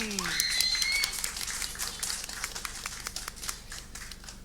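Scattered, fairly faint applause welcomes the Phong Phloi Anusorn School Muay Thai team from Bang Na, Bangkok, at a final-round competition. Irregular claps continue under voices and a few tonal sounds at the start.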